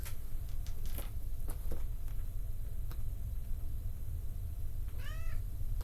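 A cat meows once, close and clear, near the end, over a steady low background hum, with a few faint ticks and taps before it.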